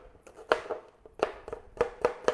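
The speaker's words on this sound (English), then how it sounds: "a sharp knife is the way to go with onion" A sharp knife chops through an onion on a board in a quick run of crisp, close knocks, about eight or nine cuts over a couple of seconds.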